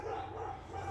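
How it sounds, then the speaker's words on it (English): Dogs bark and yip in a brief, muffled burst, somewhat distant and fairly faint against a low background hum. "I kid you not, the dogs were not barking for like an hour."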